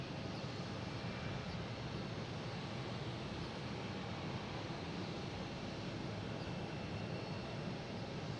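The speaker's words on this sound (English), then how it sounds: "I have a Delta coming in from Aruba, an A321neo" Delta Airbus A321neo airliner arriving from Aruba at Boston Logan, a steady broadband engine roar that holds without pause, with wind-like rush mixed in and no talk.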